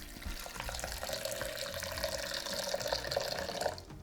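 Brewed coffee pours into a blender in a steady, continuous liquid stream lasting a few seconds, moderately close and fairly quiet, with no talking.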